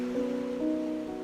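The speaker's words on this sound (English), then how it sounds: "Powerful waves crash against the rocky shore, sending white spray into the air" Atlantic Ocean waves break against the rocky shore at Peggy's Cove, Nova Scotia: a steady, broad wash of surf with no distinct individual crashes, under a sustained tonal hum.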